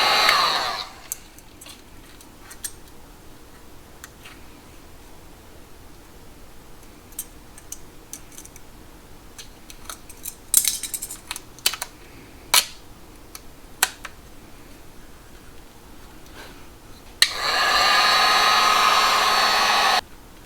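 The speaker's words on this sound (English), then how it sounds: "we're going to be using a heat gun to make sure the wrap on the back contours to the edge of the brake caliper" A heat gun shaping vinyl wrap onto a BMW brake caliper blows in a brief burst, then scattered clicks and taps follow before a loud, steady blowing whoosh returns near the end.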